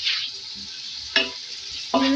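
Crushed cumin, fennel and coriander being stirred into a pulao masala for mutton pulao, making a soft steady sizzle with two sharper scraping strokes of the spoon, close and alone.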